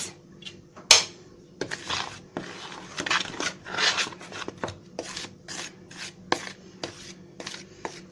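Chicken pieces being turned and tossed in a spice coating mix for crispy fried chicken, producing irregular scraping, rubbing and clattering against a bowl in uneven bursts, close and fairly loud, with no talk.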